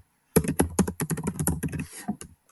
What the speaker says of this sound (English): So I'm going to type everything.